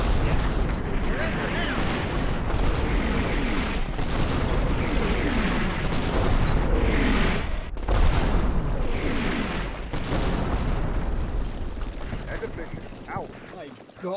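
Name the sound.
mortar explosions in a video game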